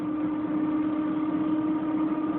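Kenmore Oasis washing machine spinning up, a steady loud droning hum with a strong tone, close and alone, holding even throughout.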